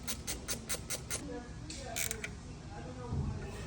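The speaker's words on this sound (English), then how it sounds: "we can then take our 13 wrench and tighten down the bolts" A 13 mm wrench tightening bolts on a throttle body on a 1966 Ford F100 with an aftermarket EFI setup: a run of quick, evenly spaced ratcheting clicks up close, followed by a few more scraping clicks, with quiet speech underneath.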